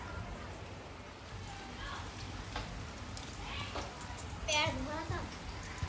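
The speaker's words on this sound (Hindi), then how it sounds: "ये बारिश तो बंद हो नहीं रही" Steady, heavy rain pours down throughout, a dense hiss that never lets up, with voices and children's sounds rising faintly through the downpour.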